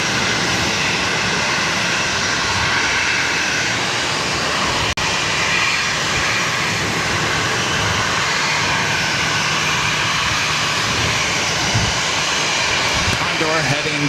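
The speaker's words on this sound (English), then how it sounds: "This is Alaska 390 coming in from San Diego." An Alaska Airlines jet arrives at Boston Logan airport, its engines a steady, loud, continuous roar that fills the whole stretch, with radio voices talking underneath.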